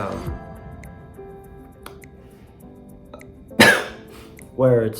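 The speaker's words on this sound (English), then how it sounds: "that was not a sneeze, by the way, that was a cough" A single harsh cough bursts out near the end, following quiet background sounds and a voice murmuring at the start.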